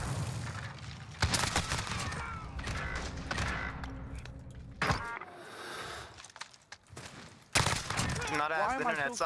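Bursts of automatic M4 gunfire loaded with 9mm SMG rounds in a shooter game crackle in rapid volleys, some close and loud, separated by pauses, with people talking in between.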